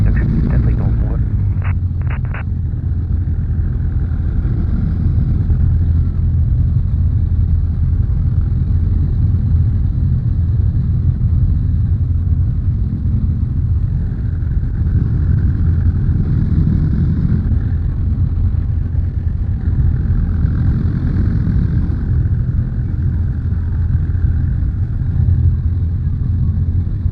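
A light airplane's piston engine drones loud and steady while taxiing to runway 07 at Le Plessis, heard from inside the cabin with radio chatter and voices over it.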